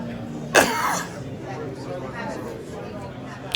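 A single sharp cough bursts out near the start, followed by quiet room tone and faint background murmur.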